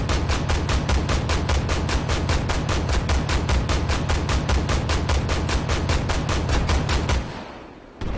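Rapid, evenly spaced heavy gunfire from an AMX 10P armored vehicle in the tank game Armored Warfare, roughly four shots a second, loud and continuous for about seven seconds before stopping abruptly.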